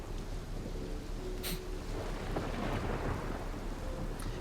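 A steady hiss of rain plays through a thunderstorm scene in the video game Outer Wilds. A low rumble of distant thunder runs underneath. There is no talking.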